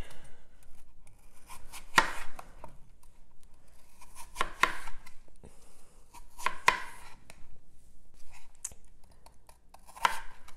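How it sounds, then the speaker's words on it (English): A knife chopping a crisp Honeycrisp apple on a cutting board: sharp, clustered cutting strikes in irregular bursts with quieter pauses between, close and clear, with no voices. "let's talk about our other ingredients while I am chopping up this apple"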